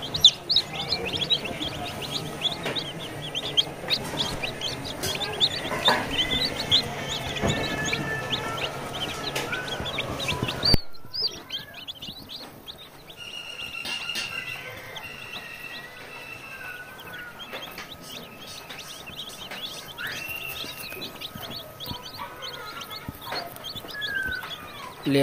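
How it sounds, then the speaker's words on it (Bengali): Day-old layer chicks chirp constantly in a dense, high-pitched chorus of many overlapping peeps, close and steady throughout with no talk. "একদিনের বাচ্চা দেখতে পাচ্ছেন।"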